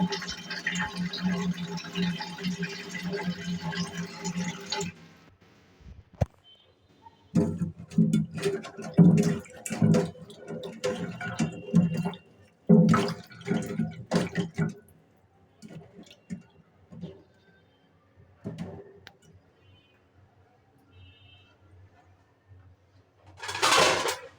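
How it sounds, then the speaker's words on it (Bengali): Onions, green chillies and lentil dumplings are rinsed under running water: a steady rush of flow for the first few seconds, then intermittent splashing, squishing and dripping bursts of handling, close and fairly loud, with a quiet stretch toward the end. "এগুলোরে ধুচ্ছি আমি এখন পেঁয়াজ কাঁচামরিচ বটবড়িরে ভালো করে দিতেছি ধুয়ে"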